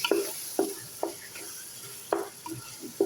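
Chicken keema being stirred into masala in a pan: about six sharp spatula scrapes at uneven intervals, close up, over a faint background sizzle, with no voices.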